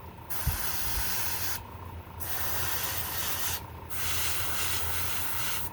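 An airbrush sprays chrome model paint in steady, close hissing bursts of several seconds each, separated by brief pauses, with no talking over it.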